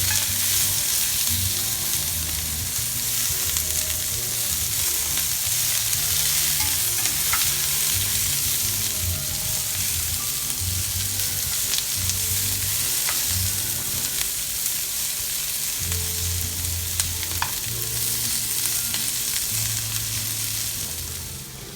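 Onions and peppers fry in a pan with a continuous close sizzle, accompanied by recurring stirring and scraping, and low background hum throughout.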